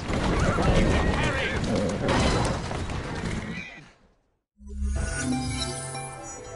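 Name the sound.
horse neighing in a video game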